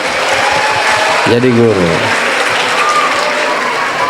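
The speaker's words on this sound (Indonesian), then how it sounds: "Kasih tepuk tangan dulu." Steady applause from a crowd at an Islamic lecture fills the clip, with a brief spoken phrase over it partway through.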